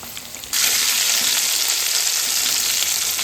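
Chicken legs fry in a pan with a loud, dense sizzle that surges up after a brief quieter moment, then holds steady and close with no voices.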